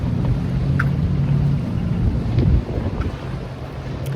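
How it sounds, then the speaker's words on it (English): A water taxi boat moves on a river on a hot day, a low engine drone mixed with lapping water and heavy wind buffeting on the microphone, the boat sound dropping away partway through, with no talking. "There is a water taxi."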